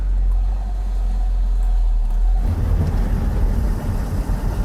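A Saab 9-3 Aero car is driven from inside the cabin: a low engine hum gives way to a louder, rougher rumble of engine and road noise as it pulls away.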